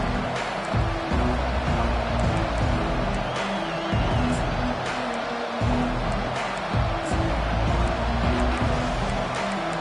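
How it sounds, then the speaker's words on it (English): A loud stadium crowd roars steadily through a college football game in an NCAA football video game, a broad sustained wash of noise with commentary over it. "This crowd bringing an ear-splitting welcome to their visitors"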